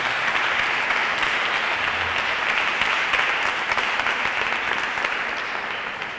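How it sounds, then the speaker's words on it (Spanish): Steady, dense applause from a live audience, loud and sustained for about six seconds before easing slightly toward the end, with no talk over it. "Tenemos a JJ Machuca, un aplausaco que se nos dé en las manos."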